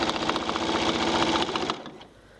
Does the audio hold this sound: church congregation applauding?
no